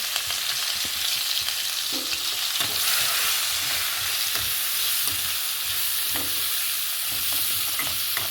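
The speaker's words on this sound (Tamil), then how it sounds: "நீட்டமாக அரிஞ்ச வெங்காயம் போட்டு வதக்கி விட்டு" Long-sliced onions sauté in a hot pan with steady, loud sizzling from start to finish and occasional scrapes and clicks of stirring, with no talking.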